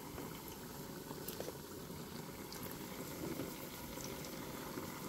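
Hot cooking oil sizzles in a pan up close: a steady, dense crackling and spitting that runs unbroken, with no talking over it.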